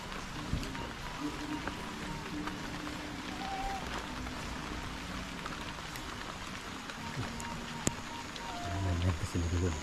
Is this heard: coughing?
no